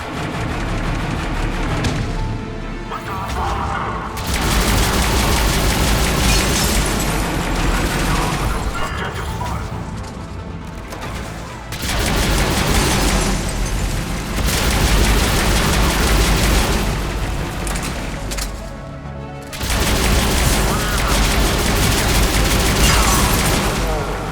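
Turret gunfire in Mass Effect 3, loud and continuous with heavy booming bursts, separated by short lulls and then resuming, with voices partly buried beneath.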